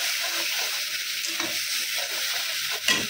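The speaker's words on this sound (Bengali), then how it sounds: "মশলাটাকে ভালো করে কষিয়ে নিতে হবে।" Ground spice paste fries in a pan on low to medium flame while being stirred, a soft continuous sizzle with scraping stirring strokes and a brief louder scrape near the end.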